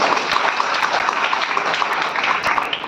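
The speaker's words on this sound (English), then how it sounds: "This needs a round of applause." A crowd applauding, dense steady clapping throughout at moderate distance, no voices standing out.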